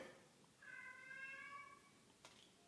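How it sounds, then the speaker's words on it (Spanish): A cat meowing outside a studio, giving one long, drawn-out, wavering meow at a distance, faint against a quiet room, followed by a small click. "Hay un gato afuera de mi estudio."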